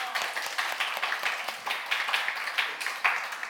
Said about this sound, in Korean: 우리 칭찬 박수 한번 해주세요.